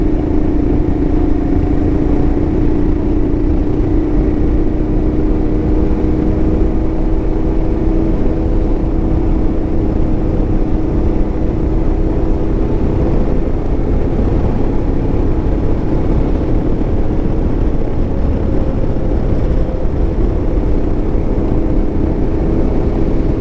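Royal Enfield Himalayan motorcycle riding on twisty mountain roads toward the Blue Ridge Parkway, a loud steady engine drone with slowly shifting pitch and strong wind rumble, no talk.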